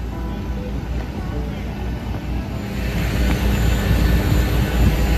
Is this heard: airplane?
yes